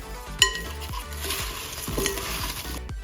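Apples are stirred in a pan with lemon juice, ginger, nutmeg, cinnamon and brown sugar, giving a close scraping and stirring with faint sizzling and an occasional clink of the utensil.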